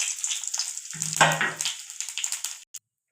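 Cumin seeds and a dried red chilli tempering in hot oil for veg khichuri: a bright, crackling sizzle with a brief clatter partway through, close up, ending abruptly.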